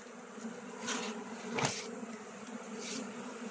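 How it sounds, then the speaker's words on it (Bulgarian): Honeybees from a weak spring colony hum on the hive frames close by, a steady buzzing drone with a few brief sharper buzzes and a knock as insects fly past. "Пчелите трябва да се приберат на тия две рамки"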